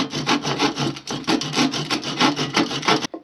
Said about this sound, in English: So let's start cutting it out with a saw.